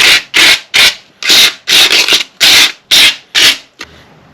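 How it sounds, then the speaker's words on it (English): Hand sanding of Porsche Boxster car parts, close and loud: about nine quick rhythmic back-and-forth rasping strokes, then a small knock and quiet. "just give it a nice little sand in."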